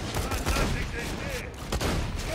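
Gunfire in the video game Borderlands 2 crackles in rapid bursts, with dense shots overlapping near the start and middle, loud and busy against game sound.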